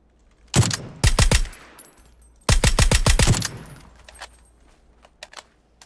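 Two rapid bursts of automatic gunfire in PUBG, loud and close, each a quick string of sharp shots, followed by scattered fainter single shots and clicks.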